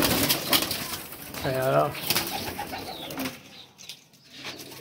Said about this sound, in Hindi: ये पहले जो हम आपको कबूतर दिखा रहे हैं ना